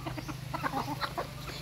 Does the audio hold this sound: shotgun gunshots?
no